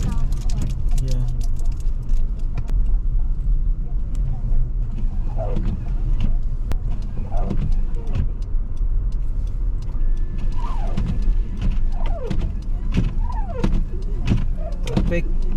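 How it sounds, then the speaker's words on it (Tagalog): Steady road traffic hiss and rumble of cars passing on a street during a heavy snowstorm, with vehicles swishing by continuously and voices talking over it now and then. "Traffic."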